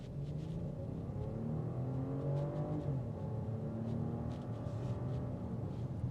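A 2026 BMW X7 xDrive40i with the B58 engine accelerates in sport mode, its engine note rising smoothly as a muffled, fairly quiet cabin hum with a steady whir beneath.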